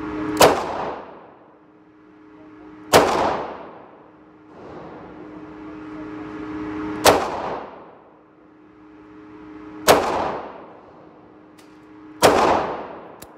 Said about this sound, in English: For the first demonstration, we are shooting 38 Special range load, and the performance of the 340 is comparable to the performance of the 642